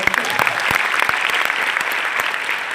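Church congregation gives loud, dense applause during a sermon, with sharp individual claps standing out over the crowd.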